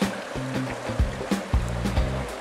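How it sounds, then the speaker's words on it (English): A water wheel of a small home hydro power plant turns in a stream, giving a soft running-water wash with regular low knocking and rumbling pulses as the wheel rotates, fairly close and steady. "You can see the water wheel goes round"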